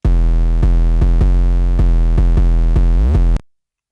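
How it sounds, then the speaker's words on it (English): An 808 bass pattern programmed in FL Studio for a beat: deep, booming sustained bass notes retriggering in a simple repeating rhythm with a pitch glide near the end, loud and alone before cutting to silence. "First up, we have this 808 right here,"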